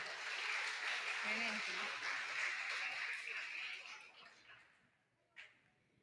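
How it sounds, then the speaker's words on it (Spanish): An audience at a school Teachers' Day program in Ecuador gives students a round of applause that stays steady, then tapers off into silence with one last clap. "Un aplauso fuerte, por favor,"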